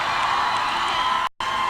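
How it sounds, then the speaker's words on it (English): A studio crowd cheering and whooping at a live music webcast, a steady dense roar of many voices, loud and continuous with a brief dropout near the end. "listen to that crowd"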